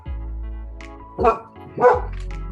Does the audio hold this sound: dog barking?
yes